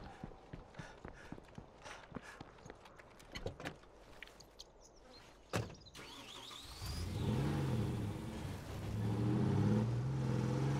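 A car engine in the zombie survival game State of Decay 2 starts up after some clattering footsteps, then holds a steady, fairly loud mid-pitched drone and rising rev as the vehicle drives off.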